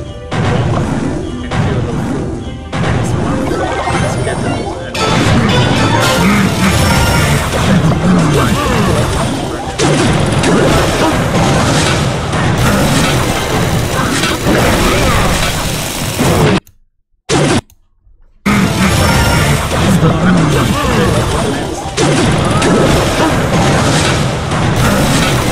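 Bomb explosion in the Clash Royale mobile game, loud booming crashes within continuous, busy game audio, with two brief dropouts into silence near the end.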